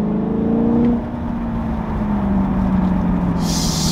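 A Dodge Challenger Hellcat Redeye engine revs hard nearby at a car meet with a steady droning roar, and a few short exhaust pops crackle through the rumble.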